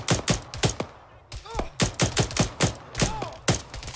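Gunfire in the military shooter game Arma 3, a close series of sharp rapid shots in short bursts with brief gaps, some whizzing tones, and a voice speaking briefly in between.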